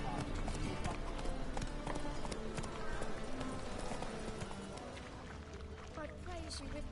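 In The Witcher 3, Geralt's horse Roach gallops with steady rhythmic hoofbeats under dense game ambience, while a voice talks over it.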